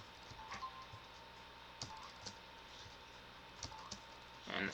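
Arrow keys on a computer keyboard are pressed to steer a game on Linux Mint 19.2, giving a handful of faint, sparse clicks at irregular intervals over a quiet background.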